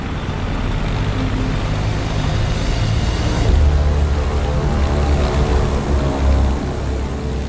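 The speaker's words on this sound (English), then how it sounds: "Copy that, Command. Commencing takeoff now." The Enola Gay bomber rolling for takeoff: a loud, continuous propeller engine roar that swells and deepens midway, with a rumbling low drone throughout.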